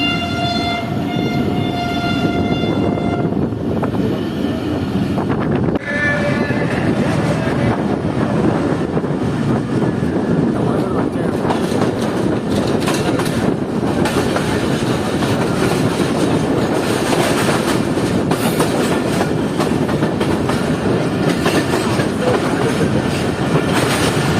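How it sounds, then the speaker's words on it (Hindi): Shah Latif Express passenger train pulling out of a station and rolling along the tracks in Pakistan, with a loud steady rumble and clatter of wheels, wind buffeting the microphone, and a brief horn or whistle early on. "गार्ड साहब की तरफ से ग्रीन फ्लैग और ट्रेन मूव होना शुरू।"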